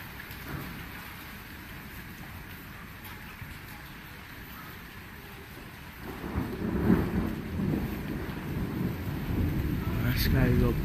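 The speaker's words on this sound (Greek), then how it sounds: "Από εδώ έχει αρκετά έντονη καταιγίδα" Intense thunderstorm over Athens: steady rain hisses throughout, growing louder and denser after the midpoint with low rumbling thunder swelling beneath, and faint voices talking in the background.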